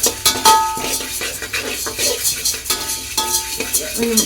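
Spices being dry-roasted and stirred in a pan for homemade sambar powder, with steady scraping and rustling of a utensil against the metal and a faint sizzle, close and moderately loud, with no talking.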